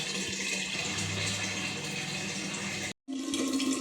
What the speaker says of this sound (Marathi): चला आता पाणी भरून मग ठेवते